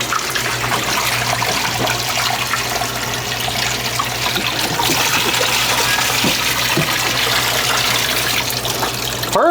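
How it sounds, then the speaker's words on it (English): Bucket of water poured down a clogged drain in a pop machine, a loud continuous rushing and gurgling flow that keeps up steadily from start to finish, with no talk over it. "can you pour a bucket of water down there?"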